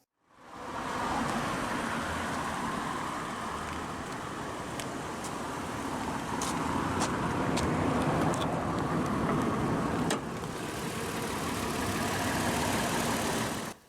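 A 2020 Toyota 4Runner SR5 Premium, lifted on 20-inch rims, idles with its 1GR-FE 4-liter naturally aspirated V6, a steady even rumble with a few light ticks, heard close and alone after starting.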